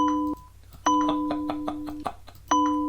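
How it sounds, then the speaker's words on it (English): A bell dings three times in quick succession during a college football radio broadcast, clear bright rings over a low background hum with no talking. "Ring your bell, man. Ring your bell. Give yourself a point. Give me a ding."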